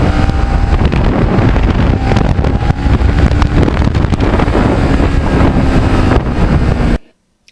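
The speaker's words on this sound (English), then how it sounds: "Just never get sick of going through the gears on this bike." A custom-restored Kawasaki Ninja motorcycle on an open road, its engine roar buried in loud, constant wind buffeting that runs unbroken for about seven seconds before cutting off abruptly.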